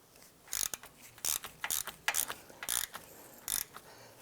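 A ratchet wrench loosening 13mm wheel hub bolts on a 2006-2011 Cadillac DTS, about eight short bursts of rapid clicking separated by brief pauses, close and fairly quiet, with no voices.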